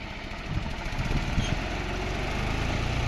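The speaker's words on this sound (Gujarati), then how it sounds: "ટ્રેક્ટર ફરી રહ્યું છે સરસ મજાનું" A tractor engine running in a farm field, a steady mid-pitched mechanical drone heard close and continuous for a few seconds with slight rises in loudness.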